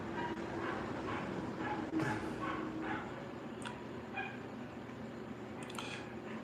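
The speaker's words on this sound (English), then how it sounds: "Kinda sounds like a puppy next door now." A puppy barking next door, a series of faint distant yips and barks repeating under a steady background hum.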